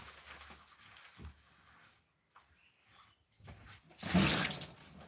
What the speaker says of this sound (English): we got too much water in the filter